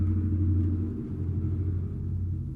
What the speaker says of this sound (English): loud truck, right?